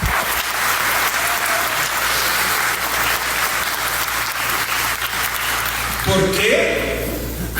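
A large assembly crowd claps continuously in a formal speech setting honoring the Espírito Santo Legislative Assembly, a thick wash of applause that holds steady for several seconds before thinning as a voice cuts in near the end.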